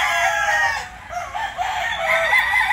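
A gamefowl rooster crows loudly and close, a long strained call that fills nearly the whole moment, with a faint cluck at the edges.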